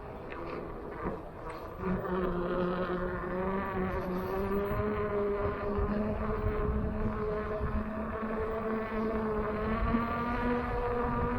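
Sherman electric unicycle motor whining with a steady buzzy, insect-like tone, close and continuous throughout, ride noise underneath.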